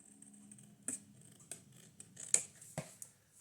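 Scissors snipping through patterned scrapbook paper for a half-size composition book cover, a few separate crisp cuts spaced about half a second apart, close and fairly quiet.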